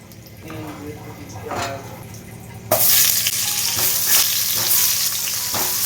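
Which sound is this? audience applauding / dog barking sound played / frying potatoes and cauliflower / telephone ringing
frying potatoes and cauliflower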